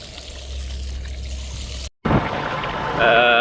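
Water pours and trickles steadily, briefly cut off, then resumes with a rushing flow and a faint higher whine toward the end.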